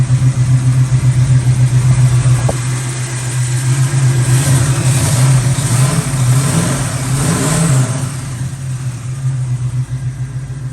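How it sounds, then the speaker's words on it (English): The 454 V8 in a 1969 Camaro with a 6-speed manual idles smoothly and steadily up close, a low, even engine hum with no speech over it. "Engine idle's nice and smooth."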